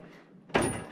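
A drawer on a Harbor Freight 34-inch tool cart slides open in one short, abrupt metallic rush that follows a quiet moment, heard close.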